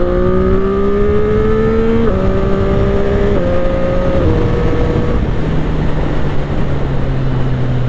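A CF Moto 675 SR-R motorcycle engine revs hard in third gear during an overtake, rising in pitch, then easing off and dropping lower, loud and steady under strong wind noise, with no talk.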